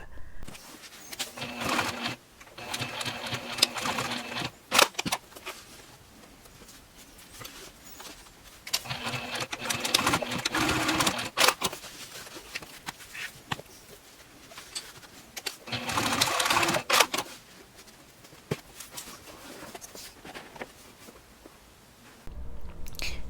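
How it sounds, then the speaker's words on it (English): A sewing machine with a zipper foot stitches on top of fabric tabs in several bursts, whirring and stopping, with quiet pauses and handling clicks in between. "Now you're going to take this to the sewing machine"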